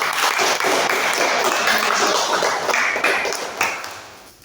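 Classroom applause for a student group that has just finished presenting, a dense, steady wash of many hands clapping that fills the room for several seconds and then thins out toward the end, with no talk over it.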